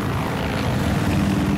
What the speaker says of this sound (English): What's going on with the helicopter?